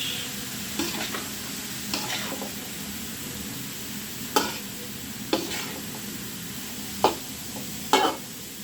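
A mixed vegetable bhaji of cauliflower, carrot and onion fries in a pan, a quiet continuous sizzle punctuated by about half a dozen sharp spatula scrapes and stirs spaced irregularly.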